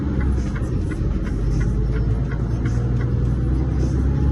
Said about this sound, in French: c'est qu'ils laissent passer les véhicules en face.